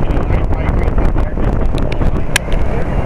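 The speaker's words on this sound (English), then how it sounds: "No, that's the heat pump." A 2005 Carrier Infinity 2-ton heat pump runs in heat mode, a loud, steady, close broadband whoosh and rumble, with wind buffeting the microphone, scattered clicks, and people talking nearby.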